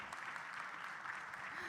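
Conference audience applause, a soft continuous patter of many hands heard from a distance, holding steady without pause as a speaker walks to the stage.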